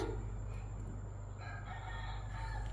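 A rooster crows at a distance over steady low background hum, with no voices nearby.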